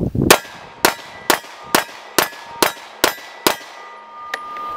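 A Beretta Model 1951 pistol firing 9mm 115-grain full metal jacket rounds, eight sharp close shots in an even rhythm, then a faint metallic clink.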